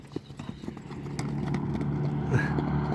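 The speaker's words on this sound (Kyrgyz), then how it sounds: "Ушундай таскак экен да жаныбар" A stallion walking and trotting near Bishkek, its hooves clip-clopping in a close, irregular patter that grows into a steadier rhythm amid outdoor background noise.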